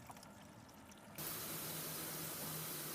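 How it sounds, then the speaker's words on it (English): Hot water from a shower bursts on abruptly after a quieter moment, then runs as a steady broadband hiss with a faint low hum beneath it, close and continuous. "So the water's been going for a few minutes."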